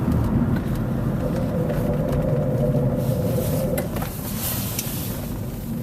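Worn rear brakes on a vehicle braking on a dirt road give a steady grinding scrape for a few seconds over loud, constant road and engine rumble, fading as the car slows.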